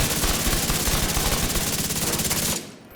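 Striker and Chameleon guns fire in The Division 2, a rapid, steady stream of loud automatic shots that runs continuously, then cuts off abruptly near the end.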